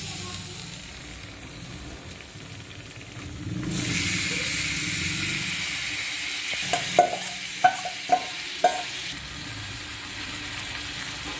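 Marinated yogurt chicken hits a hot pan of cooked-down spices for a Bengali doi chicken, and a broad sizzle rises and holds. Several sharp clinks of a spoon against the pan follow near the end.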